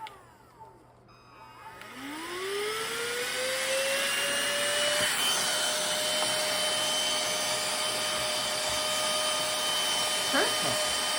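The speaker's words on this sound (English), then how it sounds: "I'm going to try to vacuum a little more." A vacuum cleaner starts up from quiet and rises in pitch to a steady, loud whine, running continuously up close, with a brief shift in tone near the end.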